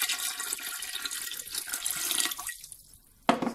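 Water is poured into canning jars packed with soaked beans, potatoes and salt for pressure canning, a close, rushing stream that stops near the end and briefly resumes.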